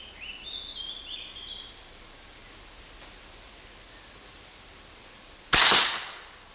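A single sharp rifle shot is fired from a standing position at a small coconut target outdoors, a loud crack with a brief decaying tail after several seconds of quiet ambience with faint birdsong.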